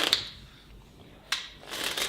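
A deck of playing cards shuffled at a table during a magic show segment, with short crisp riffling bursts at the start, middle and end separated by quiet gaps, fairly close and moderately loud.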